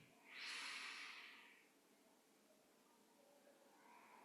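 A single slow, soft breath drawn through the nose during meditation, rising and fading as an airy hiss, quiet and close, followed by a faint lingering exhale and near silence.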